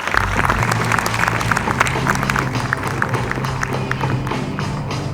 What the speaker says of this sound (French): J'ai nommé, avec vos applaudissements, Madame Matagama.